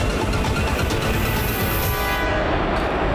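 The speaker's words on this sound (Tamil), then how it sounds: "ஓ வாவ், இந்த இடத்துல நிறைய ஸ்கை ட்ரெயின்ஸ் இருக்கு." Sky trains running through an elevated urban station, heard as a loud, steady rumble and roar that fills the whole stretch without pause, with no voices over it.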